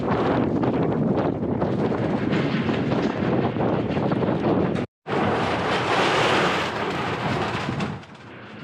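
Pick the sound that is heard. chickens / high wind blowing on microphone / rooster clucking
high wind blowing on microphone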